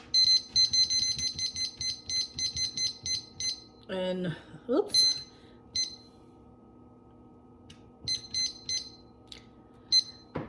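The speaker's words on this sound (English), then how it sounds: "I'm going to set the timer for about 15 minutes" A kitchen timer beeps in quick repeated bursts while someone sets it, the chirps starting and stopping in short runs as a nearby voice speaks briefly in between.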